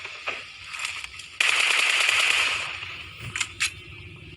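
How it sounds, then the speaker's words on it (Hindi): Bursts of rapid PUBG Mobile video game gunfire crackle loudly, with a sustained volley in the middle and a few sharp shots near the end, no talking. "ये गोली चलाता है।"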